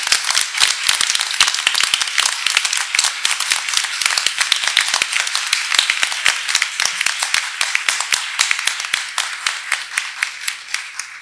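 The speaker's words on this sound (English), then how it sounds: "let's have another round of applause for all of our" Applause at a school district board of trustees meeting, a modest group clapping with sharp, distinct individual claps in a brisk, continuous patter that lasts about eleven seconds before tapering slightly.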